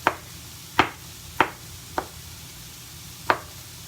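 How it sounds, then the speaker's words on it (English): A knife chops vegetables on a board for vegan fried rice: five sharp, separate chops at an uneven pace, close and clear, with quiet between strikes. "I'm just going to cut them in half and then give them like a little chop"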